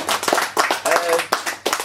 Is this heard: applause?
yes